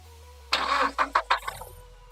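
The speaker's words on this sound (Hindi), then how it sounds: "तो अभी हम गाड़ी को स्टार्ट करते हैं और आपको दिखाते हैं।" A Nissan pickup engine cranking over after a timing repair, with a burst of starter whirring followed by several rhythmic cranking pulses before it catches and settles into a low idle, close and alone without talk.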